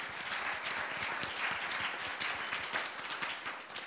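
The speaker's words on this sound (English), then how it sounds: "let's give them a round of applause for the sharing." Steady audience applause fills a seminar hall at the close of a rubber industry career talk, dense continuous clapping at fairly even loudness with no speech over it.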